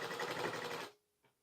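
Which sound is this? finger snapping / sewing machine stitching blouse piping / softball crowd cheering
sewing machine stitching blouse piping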